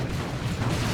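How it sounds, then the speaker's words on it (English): A grenade explodes among fleeing termagants in Dawn of War 2, a loud, rumbling, broadband blast that fills the whole moment with a low roar. "Grenade on those fleeing termagants, kills a bunch of them."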